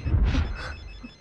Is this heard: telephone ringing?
yes